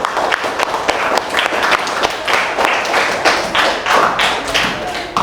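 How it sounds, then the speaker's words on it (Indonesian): A small indoor group claps for a girl named Kaisha after she reads a poem, a steady patter of hand claps with a few people joining irregularly, fairly close and loud. "tepuk tangannya untuk Kaisha."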